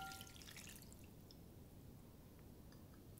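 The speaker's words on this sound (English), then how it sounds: "I'm going to add my cup of water." A cup of water poured into a big mixing bowl of peanut butter and honey dog biscuit dough, a steady close splashing pour with faint drips, no talking.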